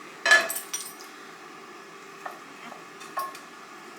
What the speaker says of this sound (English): just stir that around in the pot. Let the butter and stuff melt.